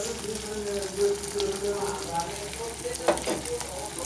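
Soya chilli frying in a pan while being stirred, a continuous soft sizzle with occasional scraping and clinks from the spoon, a voice faintly present underneath.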